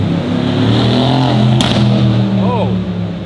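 A Lamborghini's exhaust rumbles at idle and revs briefly in Los Angeles traffic, a steady loud engine drone with a short rise, while people talk over it.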